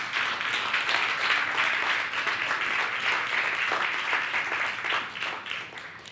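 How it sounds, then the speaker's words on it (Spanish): A church congregation at a Spanish-language worship service claps together in a steady, dense burst of applause that keeps an even level from start to finish, with no clear talking over it. "Dale un aplauso al Señor, claro que sí."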